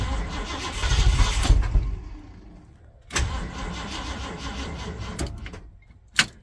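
Turbocharged 351 V8 with an MSD 6AL-2 programmable ignition cranks and catches, running roughly for a couple of seconds, dying, then cranking again into a steady idle, loud and close.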